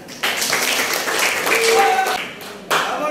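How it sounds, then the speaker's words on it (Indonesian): Applause from students in a classroom, a burst of clapping from a small group, fairly close, with voices mixed in. "Ya, tepuk tangan."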